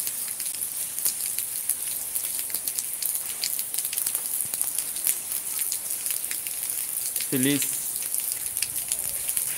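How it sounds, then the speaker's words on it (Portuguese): Steady rain falls at night in Cabo Verde, a dense even patter throughout with scattered drip clicks, while someone briefly speaks over it. "Exatamente, madrugada de chuva também."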